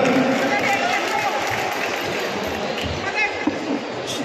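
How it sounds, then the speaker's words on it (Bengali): Crowd applause for Prosenjit Chatterjee at an evening event, a broad wash of clapping and crowd murmur that fades slightly over the few seconds, with a couple of faint tonal sounds in the background. "একটা জোরে হাততালি দেওয়ার জন্য এভরিওয়ান টুগেদার"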